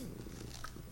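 Soft rumbling purr of a house cat close by, low and continuous for a brief moment with no voices.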